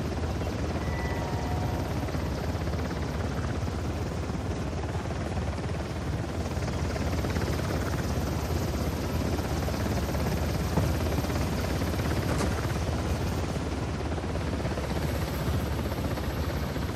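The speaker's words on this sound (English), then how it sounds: "I think the helicopter is cycling round." A helicopter circles in the Uncharted: The Lost Legacy video game, its rotor a loud, steady chopping roar that holds throughout with no talking.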